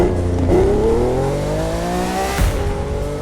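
A Lamborghini Aventador LP700-4 V12 in the racing game The Crew 2 revs up through rising gears, the engine pitch climbing steadily with a quick shift near the end, loud and continuous.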